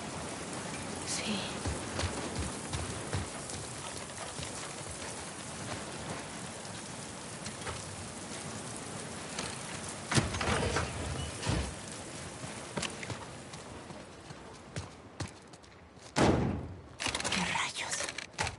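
Steady rain falling in The Last of Us Part II, a constant hiss of drops on surfaces with occasional thuds and knocks, while a voice speaks briefly over it.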